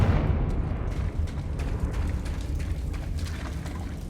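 A fiery Confringo blast spell goes off in Hogwarts Legacy, a heavy booming impact that rumbles loudly and slowly decays with crackling debris over several seconds.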